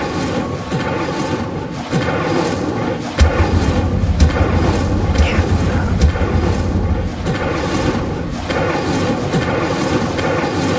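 Incendio fire spell cast in Hogwarts Legacy on PS5, a sudden loud burst with a rumbling low roar that sustains for a few seconds over a dense game soundscape.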